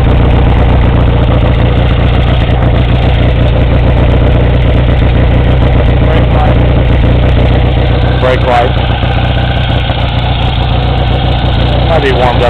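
A 1965 Triumph TR6SR 650 motorcycle idles with a loud, steady, low throbbing rumble that stays even throughout, with a voice talking over it.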